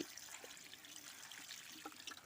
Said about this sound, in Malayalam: ഞാൻ ഇപ്പോൾ ഇതിലേക്ക് വെള്ളം ഒഴിക്കുകയാണ്